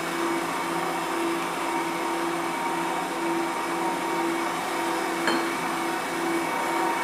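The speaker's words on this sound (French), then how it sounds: "Maintenant, je vais commencer à pétrir avec le lait." A kneading machine works bread dough for baguettes as milk is added, a steady loud motor whine with a constant hum running unbroken throughout, with one brief faint knock near the end.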